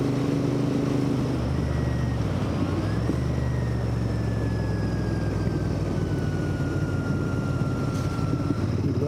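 A Royal Enfield Interceptor 650 motorcycle on a country-road ride, its engine a steady, loud, continuous drone close by, with the pitch shifting a little as the rider changes speed, plus a constant rush of wind.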